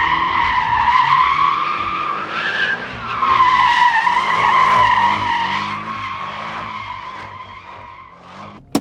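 A Porsche 718 Cayman S with its four-cylinder engine drifts hard, loud, sustained tire squeal and skidding over a revving engine throughout, with a sharp click at the end.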